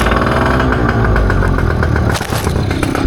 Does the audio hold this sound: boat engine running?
yes